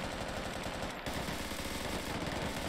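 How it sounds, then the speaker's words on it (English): Dense, continuous machine gun fire and gunshots from a shooter video game campaign mission, loud and rapid throughout with one brief gap, no talking. "I can barely hear my voice over these gunshots."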